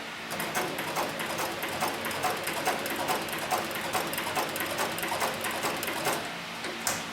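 Arm sewing machine stitching leather, running with a fast, even mechanical chatter of needle strokes that stays close and loud throughout, with brief slowdowns at the turns.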